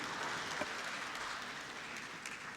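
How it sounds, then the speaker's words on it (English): Applause from delegates at a SADC ministers' meeting on ICT, information and transport, a steady round of clapping filling the whole stretch without talk. "can we give a round of applause to our Honorable Minister and all the presenters?"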